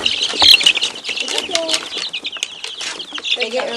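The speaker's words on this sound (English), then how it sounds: "So in the barn there's chickens." Chickens in a farm barn, clucking and squawking loudly and close, with bursts of wings flapping as the startled flock scatters; a person talks over the commotion.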